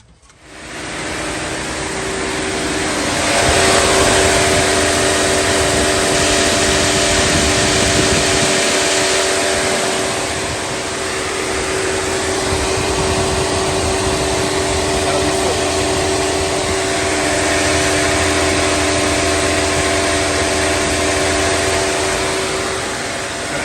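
A Chevy Suburban engine runs steadily after a coolant hose junction connector repair, a loud continuous idle hum with a broad whooshing fan roar and a faint tonal whine, rising slightly after a few seconds and holding for over twenty seconds without speech.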